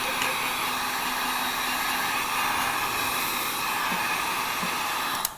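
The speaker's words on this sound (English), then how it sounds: "I use a heat gun to dry it" Heat gun drying a wet sheet of vintage dictionary paper, giving a continuous loud airy roar with a steady whine that runs unbroken throughout and ends in a small click.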